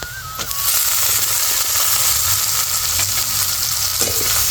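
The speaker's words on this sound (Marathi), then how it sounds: "आता तांबाटे टाकून घेते" Tomatoes tossed into palak bhaji frying in a pan set off a loud, steady sizzle that holds for several seconds, with faint stirring scrapes and no voices.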